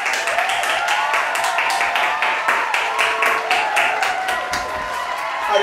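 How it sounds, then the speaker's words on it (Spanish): A studio audience at a drag show claps steadily throughout, with dense, even applause and some crowd noise, while a voice speaks over it briefly. "¡Un fuerte aplauso!"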